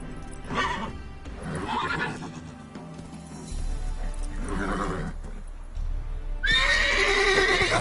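Roach, the horse in The Witcher 3, neighs and whinnies loudly several times over galloping hoofbeats and in-game rumble, the calls close and repeated across the stretch.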